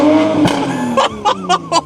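A 2020 Toyota Supra fitted with a downpipe exhaust blips its engine, a rising rev followed by three or four short sharp throttle stabs in quick succession, loud and close.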